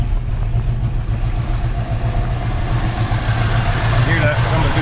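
A Chevrolet C10 truck engine idles rough and uneven, a steady low throbbing with irregular stumbles, noise coming through the carburetor, close and loud with faint talk underneath.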